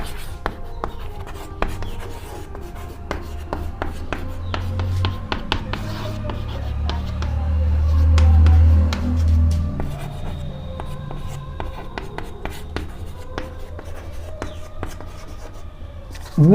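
Writing on a board during a math lesson, with a steady run of quick scratchy strokes and taps from the writing tool. A low hum swells briefly in the middle.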